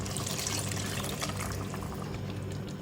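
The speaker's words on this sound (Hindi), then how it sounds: "1 कप पानी डालूंगी इसमें आलू को गलाने के लिए" A cup of water pours steadily into a pot of potato and mutton curry with green chillies, a continuous close splashing gush lasting a few seconds, with no voices.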